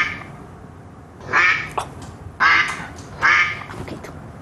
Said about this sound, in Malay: Saya rasa ini itik bunyi.